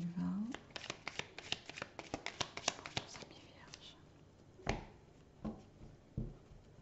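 Tarot cards being shuffled and cut by hand, a rapid run of soft crisp riffling snaps followed by a few slower, louder slaps as the deck is cut, close and fairly quiet.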